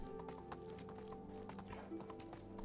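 A ridden horse in the video game Medieval Dynasty trots along with steady, close clip-clop hoofbeats, and soft tonal game music runs underneath.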